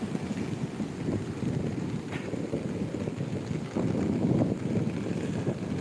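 Strong wind by the sea at Sablayan, Philippines, during a storm warning roars steadily and buffets the microphone in low, rumbling gusts, with no voices.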